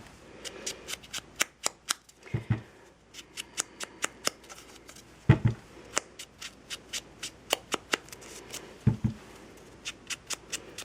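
Paper for flowers being scrunched and crinkled by hand, a close string of sharp crackling snaps and rustles in irregular bursts, with a few duller handling thumps and no voices.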